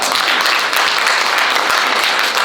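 Loud, dense audience applause at a lecture for a CEO summit course, continuous and even across the whole stretch with no talking.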